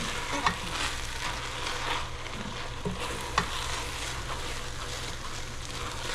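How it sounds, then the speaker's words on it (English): Risotto being stirred in a pan for blackened salmon with risotto, giving a steady, close, continuous sizzle with soft scraping strokes and a couple of sharper clinks, with no talking. "And I'll just continue stirring."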